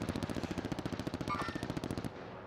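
Automatic gunfire in the video game Call of Duty Warzone: a rapid, evenly spaced stream of shots in a sustained burst that stops abruptly, fairly quiet and with no speech over it.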